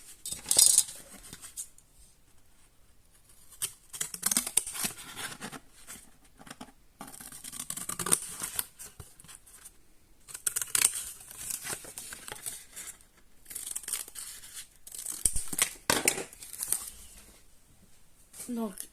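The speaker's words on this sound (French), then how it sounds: "Et j'ai plus qu'à découper tout le tour." Scissors cutting all the way around a paper craft piece for a produce-truck model, intermittent crisp snips and paper rustles, close, under a person talking.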